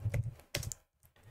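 Computer keyboard typing at a Linux terminal, a short burst of quick close keystrokes, then a brief pause and a few softer taps.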